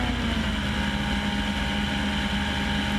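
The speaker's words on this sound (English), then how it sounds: "Full power. Second notch of flaps, airborne, back off the throttle." A bush plane's engine drones at full power on takeoff near San Francisco, a loud, constant roar with a steady propeller tone and wind noise.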